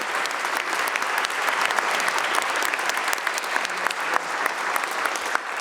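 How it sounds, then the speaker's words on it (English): An audience at the 2023-2024 budget remarks by Majority Leader Andrea Stewart-Cousins applauds itself, with sustained, even clapping of many hands at moderate distance, crisp individual claps standing out through the steady wash. "Give yourselves applause that we have actually made it"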